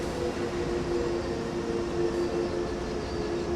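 A train in the Train Sim World 2020 game, on the Main-Spessart Bahn route, braking toward a stop: a steady, loud rumble of wheels and running gear holds evenly throughout, with a faint tonal hum and no talk.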